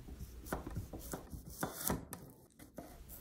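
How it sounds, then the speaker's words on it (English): A knife strikes a cucumber on a cutting board while Japanese home-cooked sushi rolls are being prepared. Several crisp, close cuts land at an uneven pace, with small scraping sounds between them and no talking. "Cut off the stem of the cucumber and cut 3"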